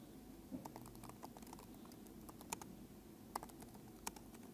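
A computer keyboard is typed on during a live JavaScript conference demo, giving faint, scattered clicking keystrokes over a low hum of room noise.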